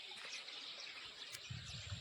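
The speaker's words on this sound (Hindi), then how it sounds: "चिड़ियों की चहचहाहट देखिए, वाह" Birds chirp and tweet in a morning forest at Powalgarh near Jim Corbett, faint and distant over a soft trickle of flowing water, with no talk.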